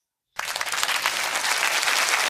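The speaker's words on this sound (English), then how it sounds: "Cue the applause." Applause sound effect bursting in after a moment of silence, a dense, steady wash of many hands clapping at full loudness through to the end.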